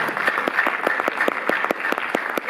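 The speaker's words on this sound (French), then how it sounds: "sous vos applaudissements" A theatre audience applauds steadily at a film presentation, with dense clapping at an even level and no one speaking over it.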